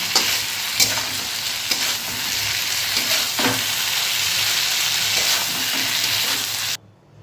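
Small chuno fish curry being stirred in a hot pan, a steady close sizzle with scraping strokes of the spoon running throughout before cutting off abruptly near the end.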